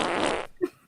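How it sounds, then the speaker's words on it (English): A wet, guttural burp from a defeated enemy in the video game Silent Hill 4, a short belch-like gurgle following a burst of broadband noise, heard alone at moderate loudness. "It's like you take down that enemy and it burps like that."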